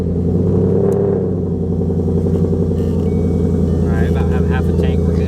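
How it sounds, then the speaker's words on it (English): A Gen 1 Ford Coyote V8 drift car idles as it warms up, giving a loud, steady rumbling drone with a slightly uneven lope, close by and continuous throughout. "Now we gotta wait till it warms up all the way."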